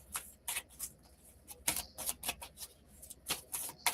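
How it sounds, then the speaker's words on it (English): Oracle cards being shuffled and drawn by hand, crisp riffling and flicking in repeated short bursts, close and fairly quiet. "I'm just going to pull 2 more cards for Wanda."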